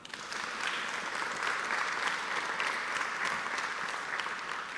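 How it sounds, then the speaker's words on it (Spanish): A church congregation claps steadily during a live worship service, a dense, even wash of many hands that holds at the same moderate level throughout, with no voices standing out. "Póngase en pie en el nombre de Jesús y dé un fuerte aplauso al Señor."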